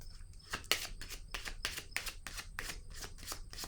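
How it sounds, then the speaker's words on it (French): Tarot cards handled and laid down on a table one after another, a series of soft close slaps and shuffling swishes with no talking. "Je vais déposer encore une carte ici sur la maison."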